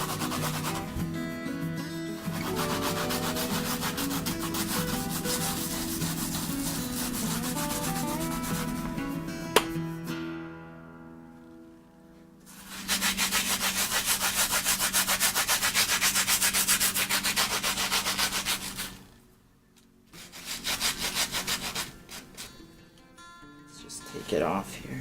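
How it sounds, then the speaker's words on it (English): Dried, salted gopher skin rubbed by hand to strip off salt, a coarse continuous scratchy rasping in long strokes with brief pauses, close up, a voice talking at times. "We're just gonna be rubbing it and taking all this salt off."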